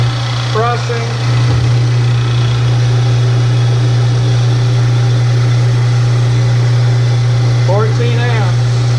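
A $20 hydraulic press driven by an electric motor runs steadily, its loud low hum and drone continuous throughout, with faint talk at the start and end.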